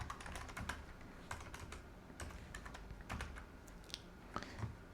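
Rapid clicking keystrokes on a computer keyboard as code for a T-SQL WHILE loop is entered, steady close typing with brief pauses throughout, no voices.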